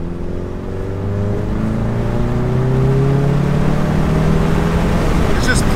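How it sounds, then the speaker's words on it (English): Car engine fitted with a single mass flywheel and a stage 3 DKM twin disc clutch, revving with rising harmonic drone that climbs and holds steady, loud and close, steady engine noise throughout. "You got the single mass flywheel, so the revs raise up a little bit faster compared to the dual mass."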